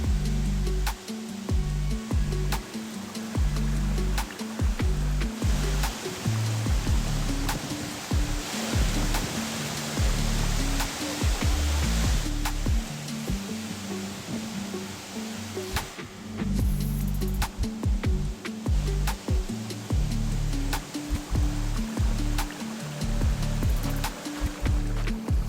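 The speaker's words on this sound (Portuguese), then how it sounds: "Uma queda de 80 metros e uma ótima piscina para banho." Waterfall with an 80-metre drop into a bathing pool in Serra da Bocaina National Park, Brazil, a steady broadband rush of falling water throughout, close and continuous with no voices.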